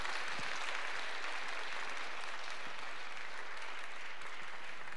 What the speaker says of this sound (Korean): 격려와 축하의 박수를 부탁드리겠습니다